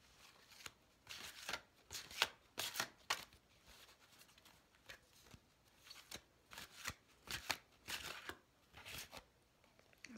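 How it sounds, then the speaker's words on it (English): A deck of tarot cards being shuffled at close range: soft, quiet papery riffles and slaps come in uneven bursts across the whole stretch, with no talk. "So just focus while I shuffle the deck."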